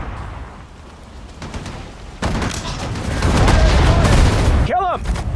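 Gunfire and explosions from the World War II strategy game Sudden Strike 4, in the Battle of the Bulge mission. Dense, loud bursts of shooting build into a sustained barrage, with short voice lines in between.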